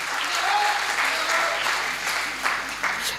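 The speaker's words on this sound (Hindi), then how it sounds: "एक बार पीलीभीत के नाम ताली बजाइए" An audience at a comic Hindi poetry recitation bursts into sustained, dense clapping that holds steady for a few seconds with a few louder individual claps near the end.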